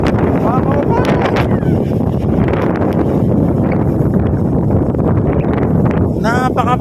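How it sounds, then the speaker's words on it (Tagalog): Strong wind blowing on a mountain at Sapang Bulak, Doña Remedios Trinidad, Bulacan, buffeting the microphone in a loud, steady rush, with a voice calling out briefly near the end. "Ang lakas ng hangin."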